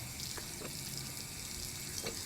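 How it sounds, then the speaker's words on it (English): A garden hose on its blast setting sprays water steadily, a faint, continuous hiss and splatter with a few brief splashy bursts, and no voices. "I don't know what her obsession is with the garden hose, but it's usually on like the blast setting"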